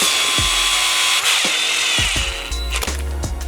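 A power driver runs screws into the composite transmission housing of a Yokomo YD-2S Plus RC car, with several short whirring bursts separated by brief pauses, close and fairly loud against steady background noise.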